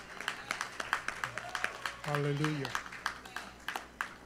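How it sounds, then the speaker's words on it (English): A church congregation claps steadily in rhythm during a service, a long run of even, moderately loud claps while a voice calls out over them. "let's give him a hand clap."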